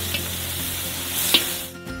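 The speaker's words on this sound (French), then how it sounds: "Versez une grande quantité d'oignons hachés. Faites-les frire jusqu'à ce qu'ils soient transparents." Chopped onions fry in melted butter inside a large cauldron, giving a steady, dense sizzle with a brief stir-like clatter near the end before the sound drops away.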